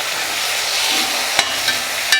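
Tomatoes and onions sauté in a pan for a mutton curry, a steady hiss of frying with a couple of sharp spoon clicks as the mix is stirred, close and clear with no talking.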